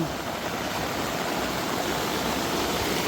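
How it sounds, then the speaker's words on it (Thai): Water rushes down a stream in a continuous, even roar of flow, loud and close, with no breaks and no voices. "น้ำไหลน้ำกำลังลงมาบุ่มบุ่ม"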